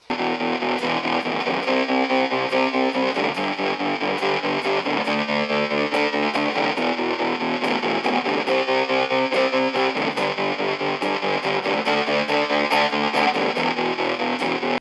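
Distorted guitar playing chords through a Red Witch Pentavocal Tremolo with a fuzz pedal in front, a pulsing, wavering volume effect, steady and loud throughout with no voices.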